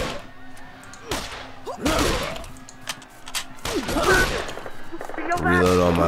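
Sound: gunfire in Wasteland 2 video game

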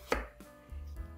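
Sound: knife slicing eggplant

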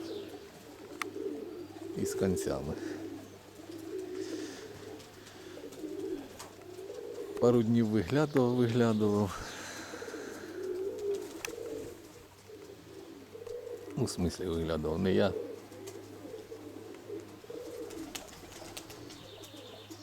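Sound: pigeons cooing

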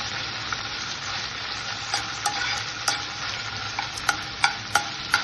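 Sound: crushed ginger, cumin and green chili frying in oil

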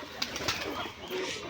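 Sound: Giribaz pigeon cooing

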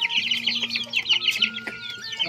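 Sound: Pelung chickens clucking in a village

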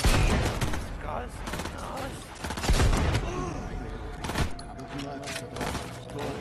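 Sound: gunshots in the video game Cyberpunk 2077

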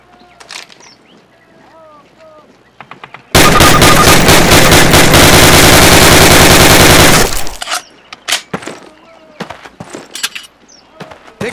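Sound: gunfire at target in Call of Duty video game

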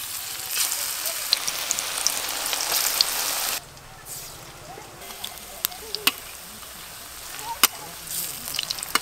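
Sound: banana flower fritters deep-frying in oil

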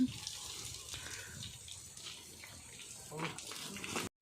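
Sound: water splashing while a mahout washes an elephant

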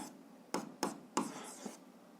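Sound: writing math by hand

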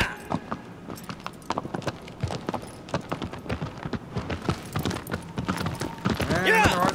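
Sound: horse galloping hooves in the video game Shadow of the Colossus

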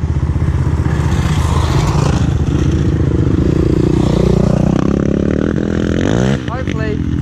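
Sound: dirt bike engine on a trail ride

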